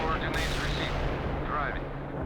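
Artillery firing in the World in Conflict: Soviet Assault game: a loud, continuous rumbling barrage with dense booms blending into one another, holding steady throughout.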